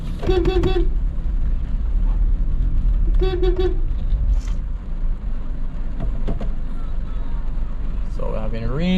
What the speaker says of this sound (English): So we're having rain and traffic together.